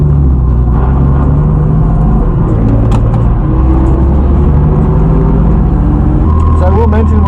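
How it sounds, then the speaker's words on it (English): A drift car's engine rumbles and drones loudly throughout on track at Laguna Seca, with shifting tones as it revs, plus faint voices underneath. "this is the first time ever bringing the drift car on the track"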